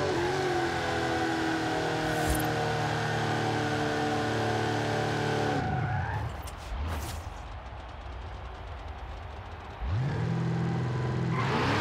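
A Dodge Charger R/T in Forza Horizon 5, on a wet track, revs loud and steady under acceleration. The engine note drops and roughens midway, as if the driver lifts off or shifts, then climbs back to a full roar.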